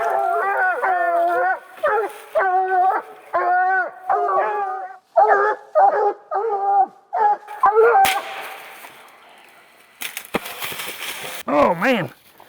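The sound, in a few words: coon hounds baying at treed raccoon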